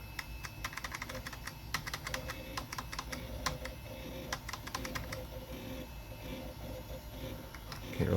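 Computer keyboard keys clack in quick, uneven bursts at a Windows 98 era Dell Dimension 4100 desktop, fairly faint and close against a steady low room hum, with no talk.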